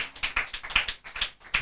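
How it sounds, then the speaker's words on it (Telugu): Clapping comes as a quick, uneven burst of hand claps, close and moderately loud, with no talk over it. "కొట్టండి చప్పట్లు గట్టిగా"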